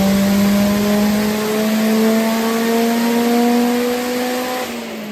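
A 450 horsepower Ford Focus ST engine revs on a dyno during a power run, a loud, close, steadily rising drone climbing in pitch for several seconds.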